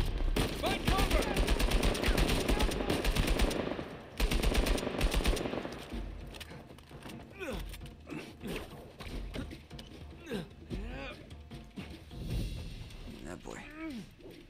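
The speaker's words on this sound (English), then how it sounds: "Sam, sniper! Find cover!" Sniper and automatic gunfire from the video game Uncharted 4 crack in rapid bursts, dense at first and then more scattered, while voices shout over the combat.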